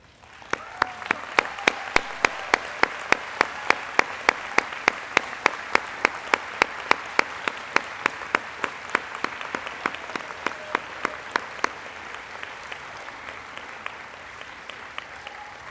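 At a college psychology commencement ceremony, the audience applauds Psi Chi honor society members. It starts as a crowd of hands and a distinct loud near clapper keeping a steady rapid beat, then thins and fades after about twelve seconds.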